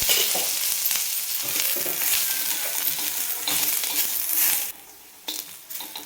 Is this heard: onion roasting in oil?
yes